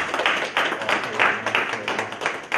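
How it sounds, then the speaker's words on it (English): An audience at a lecture applauds a speaker, with clapping that comes in loud, rhythmic pulses and stays close and steady for the whole moment. "Let's give Dr. Reggie a round of applause."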